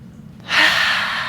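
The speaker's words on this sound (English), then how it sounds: "Gaze above your left fingertips. Breathe here." A slow, deep breath drawn in and let out during a yoga Warrior 2 pose, close and soft but clear, swelling to a steady breathy hush after a quiet start.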